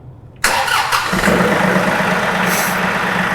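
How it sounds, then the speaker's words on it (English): A John Deere 2, 3 or 4 Series compact tractor engine cranks and catches abruptly, then settles into a loud, steady low idle close by with no talk. "So I'm going to go ahead and turn the machine on."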